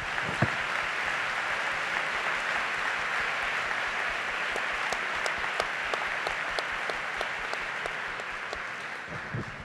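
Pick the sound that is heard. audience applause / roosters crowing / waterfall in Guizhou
audience applause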